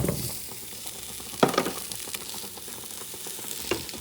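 Carrots and potatoes sizzle and fry in a hot pot for a buffalo stew, a steady crackling hiss with a few sharper pops and stirring knocks, close and alone.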